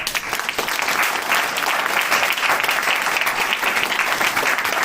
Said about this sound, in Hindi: बताओ तालियां बनती है कि नहीं बनती?